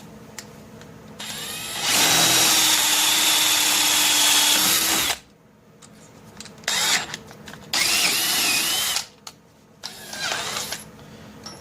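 A power drill with a loosely tightened bit runs in loud whining bursts, one long sustained run followed by several shorter on-off pulses separated by brief pauses, heard alone and close.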